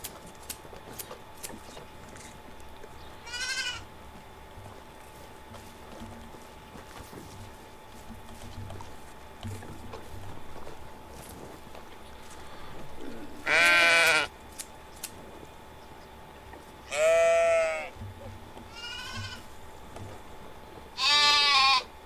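In the video game Medieval Dynasty, sheep waiting to be shorn give several loud bleats in the later half, spaced a few seconds apart, over a faint ambient background with a weaker bleat earlier.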